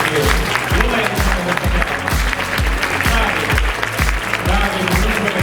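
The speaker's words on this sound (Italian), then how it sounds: "la musica deve essere l'applauso che fate voi alle nostre ragazze" An audience applauds the contestants at a Miss Italia Veneto 2018 beauty pageant in Verona, a loud, sustained wash of clapping over a steady low rhythmic thump throughout.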